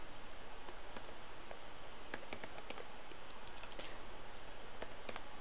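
Typing on a computer keyboard while coding an event listener in CodePen, with scattered quick clicks and short bursts of keystrokes at a soft, close level over faint background hiss.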